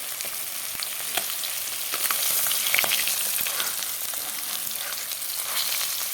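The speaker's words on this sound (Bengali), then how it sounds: "মাছগুলো লাল লাল হয়ে গেল ভাজা হয়ে গেলো" Steady, bright sizzling of katla fish frying in hot oil, with crackles and pops scattered throughout, close and continuous.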